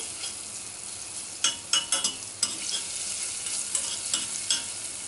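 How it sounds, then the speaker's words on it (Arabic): A spoonful of garlic fries in a little oil in a pan, a continuous soft sizzle broken by a quick cluster of stirring scrapes and then a few more strokes, heard up close without speech. "وهبتدي احط عليها معلقة من الثوم وهقلبها كويس جدا."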